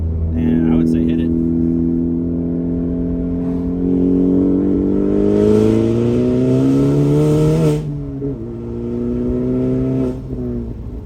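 A Honda Civic Type R engine revs up steadily with rising pitch as it accelerates hard past 3,000 RPM, loud and close, holding high revs before easing briefly and climbing again.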